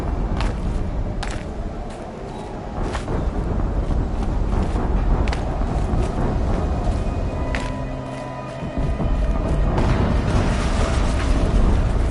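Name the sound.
explosion in video game Horizon Zero Dawn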